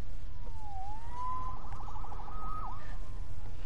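A police siren wails and yelps at a steady distance, rising and falling in tone over constant background noise.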